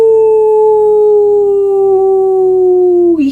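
A single voice imitates a wolf howling at the moon, one long sustained howl held loud and close, gliding slowly downward before breaking off at the end.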